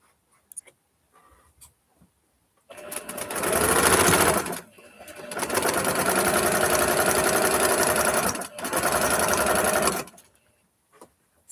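A home sewing machine runs in three bursts of loud, fast mechanical clattering separated by short pauses, with faint ticks and handling noises before and after.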